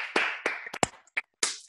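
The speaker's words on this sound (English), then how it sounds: "Let's give Glenn another big hand" Scattered claps ring out for actor Glenn Morshower, sharp and close, in an uneven handful of separate hits rather than a full ovation.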